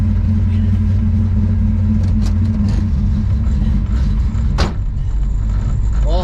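A car idles and pulls away with a deep steady engine rumble, a few clunks and a short burst of louder noise near the end.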